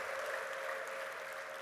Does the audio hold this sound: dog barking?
no